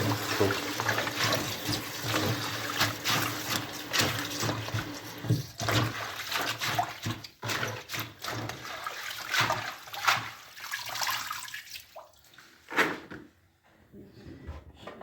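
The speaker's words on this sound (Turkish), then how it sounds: "bir yandan su aksın" Water runs from a tap in a steady splashing stream that continues for most of the time, then thins out and trails off near the end with a few scattered knocks.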